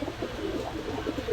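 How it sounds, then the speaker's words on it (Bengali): Pakistani high flyer pigeons at a shop give a brief run of soft, low cooing pulses, faint and close, with no voices. "এই একটা টেডি কবুতর"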